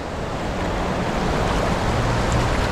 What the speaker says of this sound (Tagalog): Masarap pakinggan ng agos